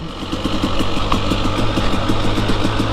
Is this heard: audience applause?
no